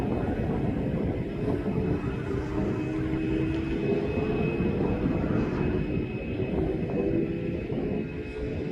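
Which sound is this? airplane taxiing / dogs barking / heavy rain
airplane taxiing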